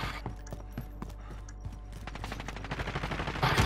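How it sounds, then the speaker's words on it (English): Video game shooter gunfire, a rapid scattered series of muffled shots at moderate distance, growing denser and louder toward the end over steady low background noise. "Did you see that shooting and you're asking that question?"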